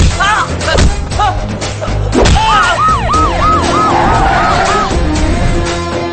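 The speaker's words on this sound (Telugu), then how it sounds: "నెక్స్ట్ 60 minutes సిటీ అంతా సైరన్ తో మోతం మోగిపోద్ది." Police-style sirens wail across a city in a Telugu film scene, loud repeating rising-and-falling tones over a dense, busy soundtrack with voices mixed in.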